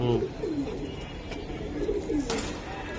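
Racing pigeons at a loft coo in soft, repeated low calls against a steady murmur of background noise, with a few faint voices nearby.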